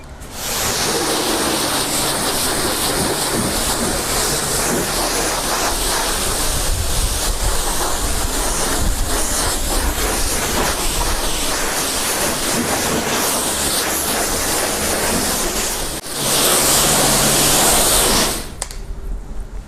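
A steady, loud hiss of osmosis water spraying under pressure onto a car at a self-service car wash runs without a break, its tone shifting briefly near the end.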